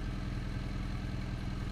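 A motorcycle rolls along with the clutch pulled in, its engine disengaged from the drive. A steady low engine putter with a regular pulsing rhythm and some clatter sounds close and continuous throughout.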